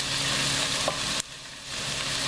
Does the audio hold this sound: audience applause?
no